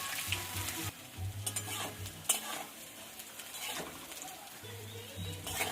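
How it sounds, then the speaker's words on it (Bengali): Cauliflower pakora frying in oil until deep golden red, a steady sizzle with occasional utensil scrapes and clinks against the pan, sometimes dipping quieter. "একদম লাল লাল করে ভাজতে হবে।"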